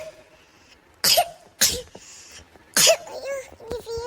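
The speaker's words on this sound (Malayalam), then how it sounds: "അയ്യോ, എനിക്ക് ചുമ." A person coughing several times in short harsh bursts, close and loud, with quiet voiced sounds between the coughs.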